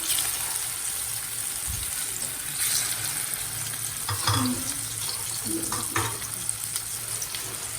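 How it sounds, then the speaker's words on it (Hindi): Chicken shami kebabs fry in a pan with a steady, close sizzle and crackle throughout, plus occasional soft stirring scrapes and spatters. "4 कबाब मैं भी सिर्फ दिखाने के लिए आपको फ्राई कर रही हूँ।"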